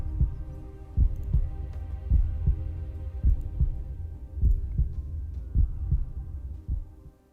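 A heartbeat effect played during a tabletop fantasy role-playing session: steady, evenly spaced low double thumps, roughly one per second, loud and throbbing over a faint hum, with no voices.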